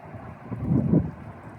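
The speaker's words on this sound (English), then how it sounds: "I can hear it coming. I can hear the wind." Wind rising ahead of an approaching haboob dust storm in Arizona, a low roaring rumble that swells and fades over a moment, buffeting the microphone with no voices.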